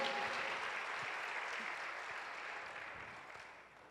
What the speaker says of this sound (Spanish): Dele el aplauso al Señor